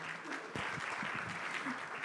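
An audience applauds a speaker at an opening session of a leaders' summit in Tokyo, a dense burst of clapping from a crowd that swells after a brief softer start and holds steady, with faint voices beneath.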